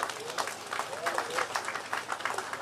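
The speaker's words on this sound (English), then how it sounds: "Let us give him a round of applause." At a trade union delegates' conference in a large hall, a crowd applauds with a dense, moderately faint patter of many hands, while a voice speaks over it.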